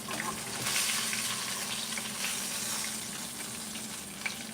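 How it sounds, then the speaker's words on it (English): King fish sizzling steadily in a pan as it fries, a continuous close crackle and hiss with small pops and no talking. "I do fry the fish on every side as much as possible."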